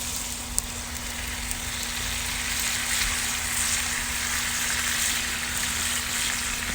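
Heavy cream sauce boils steadily in a cast iron pan on a grill with a continuous, even sizzling bubble and no pauses.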